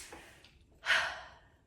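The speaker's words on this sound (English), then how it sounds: "excuse my pregnant breathing." A pregnant woman breathes heavily near the microphone, with a faint breath early on followed by one strong, drawn-out sighing exhale that slowly fades, and no talking.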